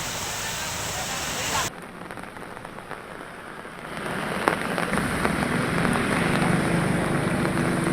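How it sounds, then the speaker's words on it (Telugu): Heavy monsoon rain pours down in the Godavari region of Andhra Pradesh, a dense steady hiss of drops on surfaces that shifts abruptly in tone partway through, with faint voice-like sound underneath. "ఉమ్మడి తూర్పుగోదావరి జిల్లాలో ఎడతెరిపి లేకుండా భారీ వర్షాలు కురుస్తున్నాయి"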